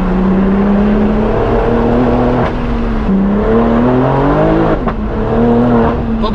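BMW M4 with a full straight-pipe exhaust pulling hard through the gears, its loud, raspy note climbing steadily in pitch and snapping off twice in quick, motorbike-like upshifts before rising again.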